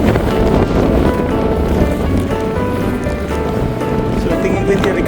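Strong wind buffeting over open water near a boat, a loud, constant roar and gusting rush with microphone wind noise, while voices talk over it.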